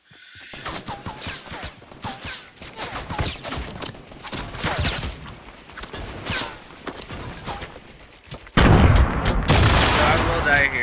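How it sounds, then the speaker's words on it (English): Rapid gunfire in a video game, with the player under fire: dense bursts of shots and impacts throughout, turning louder and harsher near the end, with a voice speaking over parts of it. "I'm over here getting shot at."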